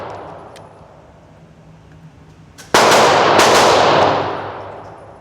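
Another shooter fires at a shooting range, producing a sudden loud, sharp burst of shots that rings out and decays over about a second and a half after a quiet stretch.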